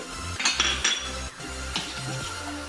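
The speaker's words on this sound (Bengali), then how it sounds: "একটা আমি বড় কড়া বসিয়ে দিলাম সাদা তেল দিচ্ছি" A large metal kadai is set on a gas stove with clanking knocks and clinks of metal on metal, followed by softer scraping as white oil is added.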